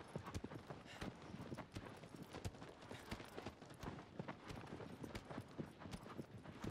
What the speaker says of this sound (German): Also Pferd, gib Gas.